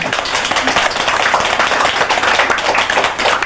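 A lecture audience bursts into loud, close hand clapping, a continuous patter of many hands that holds steady throughout.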